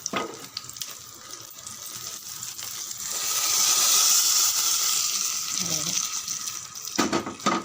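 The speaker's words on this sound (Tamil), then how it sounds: "இது பாருங்கள், நல்லா பொரிய ஆரம்பிச்சிடுது" Tempering spices frying and spluttering in hot oil for sambar, a sizzling hiss that swells to a loud, sustained crackle midway, with someone speaking faintly at times and a few utensil clinks.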